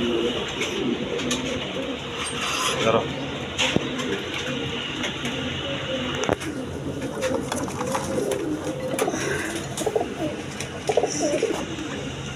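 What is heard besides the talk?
pigeons cooing, various breeds including Giribaz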